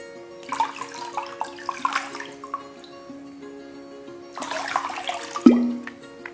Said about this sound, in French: on va se rincer les mains.